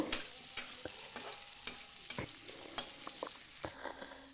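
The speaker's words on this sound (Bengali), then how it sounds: "টমেটোটাও আলু পেঁয়াজের সাথে একটু ভেজে নেব" Tomato pieces and garlic paste fry with potato and onion in oil in a home kitchen for a winter tangra fish curry, with a soft steady sizzle and repeated close scraping knocks of a spatula stirring the pan.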